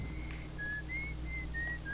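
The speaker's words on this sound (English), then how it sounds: "Someone's just whistling." Whistling picked up through the signal scope in Outer Wilds, a faint, thin melodic tune of short sustained notes drifting over a low steady hum, with no voices.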